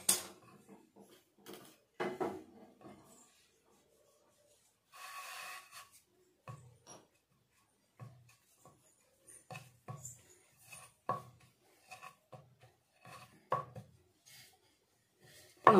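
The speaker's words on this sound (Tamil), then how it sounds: "இப்போ இதை எடுத்து வச்சுட்டு தேய்க்கலாம்." Wheat flour dough is rolled out with soft, sporadic rubs and light knocks of a rolling pin on a board, separated by quiet pauses and heard close up.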